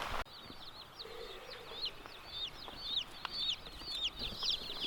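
Baby chicks for pasture poultry on a farm, a dense chorus of high peeping calls, continuous and moderately close over a soft background hum.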